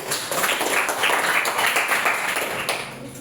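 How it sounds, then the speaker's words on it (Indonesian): Classmates in a vocational school accounting class clap for a student, a steady, dense patter of many hands that holds evenly for several seconds at close range. "tepuk tangan untuk Jiwil."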